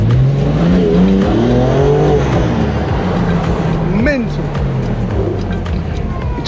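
A 2021 BMW G82 M4 Competition engine revs loudly up and down inside the cabin, with sweeping pitch rises and a sharp blip midway, while someone talks over it.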